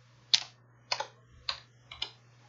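Typing on a computer keyboard, four crisp, separate keystroke clusters spaced about half a second apart, close and quiet over a faint low hum.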